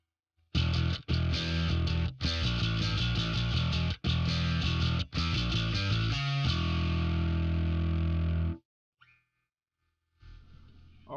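Heavy distorted metal djent bass tone run through a Line 6 POD HD with a noise gate after the amp: tight, chugging low riffs with sharp gated stops, ending in a brief pause and a few quieter notes.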